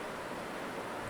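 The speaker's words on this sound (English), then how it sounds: "I mean, it's literally pouring rain." Heavy rain pours outside in a steady, broadband roar, constant and fairly loud with no voices.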